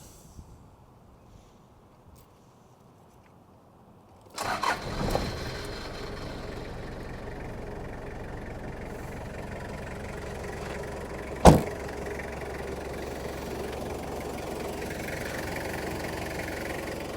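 A 1991 Toyota Hilux 3L 2.8-liter diesel engine starts up and settles into a steady, low rumbling idle with a faint knocking clatter; a brief sharp clunk sounds partway through.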